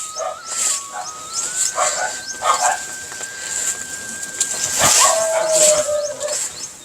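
Outdoor dogs bark and let out long, drawn-out howls at mid distance over a noisy background, with people's voices mixed in.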